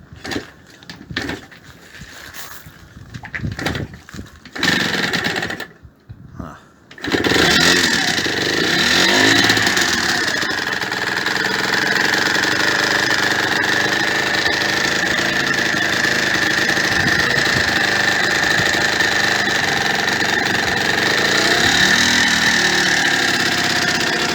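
A Yamaha DT motorcycle engine is kicked several times with sputtering attempts, then catches and runs at a loud, steady idle with a continuous raspy drone close to the microphone.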